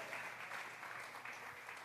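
A church congregation claps together in a sustained, fairly faint round of applause filling the room.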